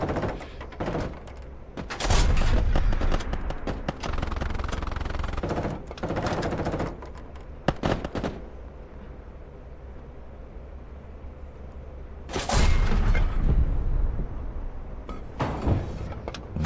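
Bursts of rapid gunfire erupt several times amid a battle din in the war video game Call to Arms Panzer Elite, loud and close, separated by quieter stretches.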